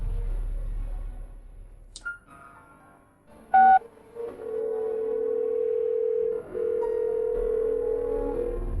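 Someone dials a telephone by hand. A few short, separate keypad tones sound first, followed by a long, steady ringing tone, all close and clear against a quiet background.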